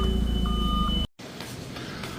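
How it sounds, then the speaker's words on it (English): Beeping warning tone from a vehicle's fuel light alert on a full tank, a steady tone inside the cab with a short higher beep, cutting off abruptly partway before low cab rumble continues. "It's like it got too full, and so it's beeping at us"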